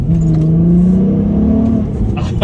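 A VW Golf Mk5 R32 with a six-speed manual revs hard in second gear, its engine note rising steadily and loud and close for a couple of seconds before easing off.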